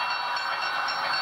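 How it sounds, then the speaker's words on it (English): Union Pacific Big Boy 4013 steam locomotive hauling a short freight train, a brief steady rumble and hiss of rolling stock, loud and continuous with no voices. "the Big Boy 4013 with a short freight train"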